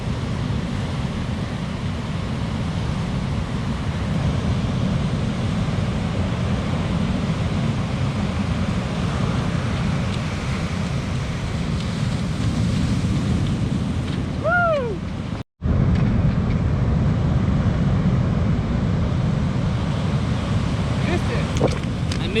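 Heavy ocean surf pounds a rocky beach on the north Vandenberg coast, a constant loud wash of waves with wind buffeting the microphone, broken by one brief dropout.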